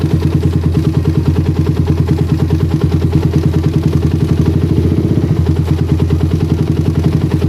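Motorcycle engine fitted with a PE, PWK or PWL carburetor, revved lightly and steadily, with a close, loud, rapid rhythmic pulsing that rises a little in pitch and carries on without a break.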